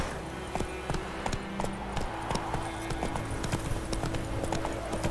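A horse in The Witcher 3 video game trots with steady, rhythmic clip-clopping hooves, crisp and close, over a faint ambient game background.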